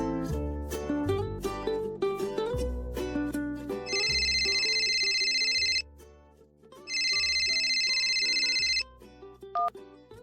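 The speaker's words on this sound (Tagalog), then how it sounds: "may tumatawag na unknown number sa aking cellphone" A cellphone rings with an incoming call from an unknown number, two long sustained bursts of a loud electronic ringtone rising over background music, with a pause between them.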